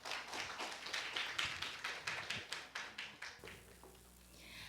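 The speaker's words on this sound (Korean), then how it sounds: "큰 박수로 환영해 주시기 바랍니다." Audience at a Korean tea culture academic symposium claps to welcome a speaker to the podium. The claps come in a fairly even, rhythmic run for a few seconds, then stop abruptly, leaving a quiet room.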